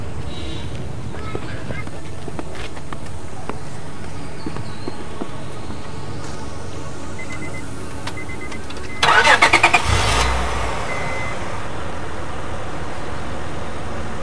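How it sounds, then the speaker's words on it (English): A stubborn car that would not start is cranked and briefly catches in a short, rough burst amid a noisy outdoor scene, with people talking around it. "Please, can you help me start this car?"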